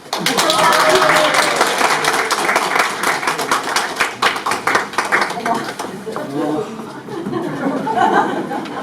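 Church audience at a course graduation ceremony applauding loudly, a dense clatter of many hands that thins into scattered claps, with laughter and chatter mixed in.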